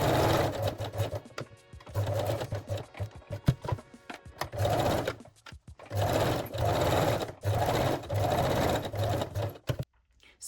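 A sewing machine stitches lace onto a bralette in several loud, close bursts of rapid mechanical whirring, broken by short pauses and a few clicks, with no voices.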